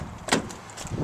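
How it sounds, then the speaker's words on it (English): Driver door of a 2006 Honda Element swinging open, a single brief latch click and creak followed by faint rustling of the cabin, close and fairly quiet with no talking. "Got the driver door."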